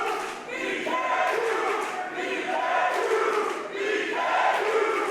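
A split wrestling crowd at the Houston Premier Arena roars and chants steadily throughout, a dense, loud wash of many voices with rising and falling waves and no clear speech above it.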